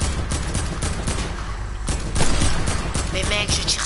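Rapid gunfire in a shooter video game, a dense steady fusillade of sharp cracks and pops, loud and close, with a heavier burst near the end and no clear talk over it.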